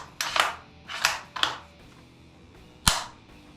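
Remington 700 rifle being dry-fired during a function test, four crisp, sharp trigger and action clicks close up, spaced irregularly with quiet gaps between them.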